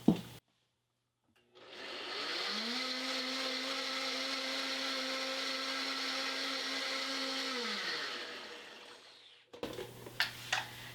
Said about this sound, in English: I'm just going to blend this again